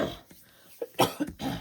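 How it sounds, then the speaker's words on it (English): Someone with allergies gives a few sharp coughs and throat-clearing bursts, close and loud, separated by brief quiet gaps. "I have allergies and I'm constantly coughing and clearing my throat"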